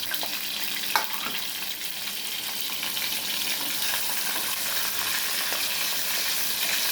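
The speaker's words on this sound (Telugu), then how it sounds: "ఆయిల్ వేడెక్కిందండి చేపలు వేసేద్దామండి" Dried fish crackles and hisses in hot oil, a dense continuous bright sizzle that holds steady and close, with a small clink near the start and no talking.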